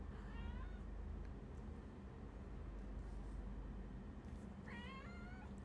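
A spoiled house cat being groomed meows twice, a short rising mew near the start and another a few seconds later, fairly faint over a steady background hiss.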